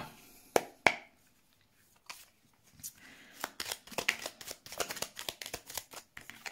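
Tarot-style Lenormand oracle cards handled and shuffled, with a few sharp snaps at first, a pause, then a quick run of crisp flicking riffles, close and quiet.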